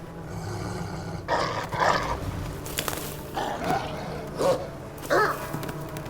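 A wolf pup in Assassin's Creed Valhalla lets out several rough growls and snarls in short bursts, fairly close, over a steady ambient game background.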